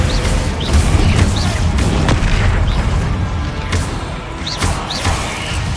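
Descendo spell slam in Hogwarts Legacy, a wizarding video game, heard within a steady wash of booming crashes and thuds, several sharp impact bursts spaced through the stretch, loud and dense throughout.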